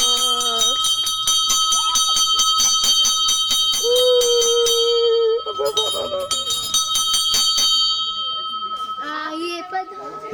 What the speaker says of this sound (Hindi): घंटियां।